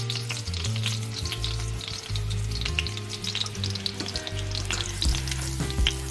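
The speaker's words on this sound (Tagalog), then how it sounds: "I am gonna continue frying the remainder of the pork" Pieces of pork tonkatsu deep-fry in hot oil, a steady close sizzle and crackle with bubbling pops, occasional stirring or lifting sounds rising above the frying.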